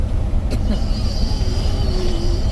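A car engine drones low and loud as the accelerator is pressed, its pitch rising briefly over a rough rumble, while someone talks over it up close.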